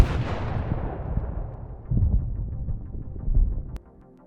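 An FPV drone explosion on a battlefield starts as a heavy, rumbling blast that decays over a few seconds, with further dull thuds following before it cuts off.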